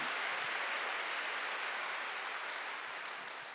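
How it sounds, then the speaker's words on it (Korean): A congregation applauds during a Sunday church service, producing steady, even clapping heard at some distance and tapering slightly toward the end. "박수 좀 세게 쳐봐요."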